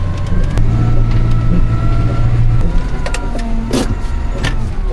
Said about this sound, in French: Oh mon dieu, le tracteur il patine.